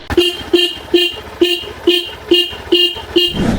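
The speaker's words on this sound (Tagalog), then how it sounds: "Ito yung busina niya." A Hero Xpulse 200 4V motorcycle horn beeps eight times in a quick, even rhythm, loud and close, with engine noise underneath.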